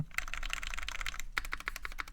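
Keys on the top row of a custom-built Kei R2 mechanical keyboard clack in a quick, even run of crisp, close strikes, a dense flurry followed by a slightly slower sequence of distinct taps.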